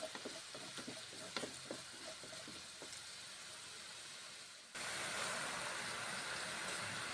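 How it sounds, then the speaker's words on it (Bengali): Spices are sautéed in a pan, first with soft sizzling and light stirring clicks, then a sudden louder, broader hiss takes over and holds steady to the end. "কাঁচা গন্ধ থাকবে না, কষে নিচ্ছি তাই ভালো করে মশলা"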